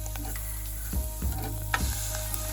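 Cayenne pepper and cumin sizzle in a hot pan, a steady close frying hiss throughout with a few soft knocks and stirring bumps near the middle, no voices.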